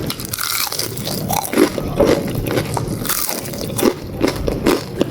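Crisp bites into a crunchy fried breakfast snack, several loud close crunches spaced irregularly over steady chewing.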